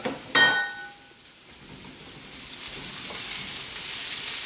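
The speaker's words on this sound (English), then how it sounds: "And let the shrimp do their thing while we're also letting our vegetables cook." Shrimp and vegetables, including zucchini, for shrimp fried rice sizzle steadily in a hot pan, with a metallic clink of a utensil at the start and a loud, continuous hiss throughout.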